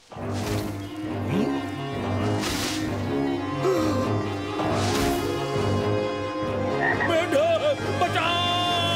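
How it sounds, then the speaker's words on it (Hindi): A frog croaks repeatedly and loudly up close, deep rhythmic calls layered over a steady low hum. "मेंढक"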